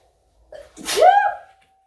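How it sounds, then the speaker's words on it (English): A single loud, close sneeze with a short breathy intake before the sharp burst, then quiet. "I have to sneeze"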